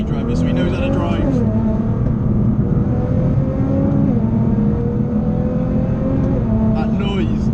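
A 700hp Nissan GTR R35 Black Edition accelerates hard on a road with a tight right-hander, its engine climbing through the revs with a brief shift dip before pulling again, loud and steady throughout.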